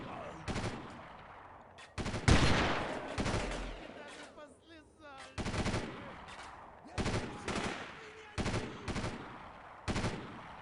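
Sniper rifle gunfire in the video game Delta Force 2 cracks out as a series of sharp, loud single shots at irregular intervals, with a soft background bed between them.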